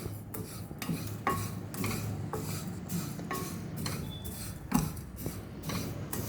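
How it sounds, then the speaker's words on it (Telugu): Vermicelli frying in oil while a utensil stirs it in a pan, giving quick repeated scraping strokes with a light sizzle and an occasional metallic clink, close and moderately quiet. "ఇప్పుడు ఈ సేమియాని ఆయిల్లో వేగించుకుందాము"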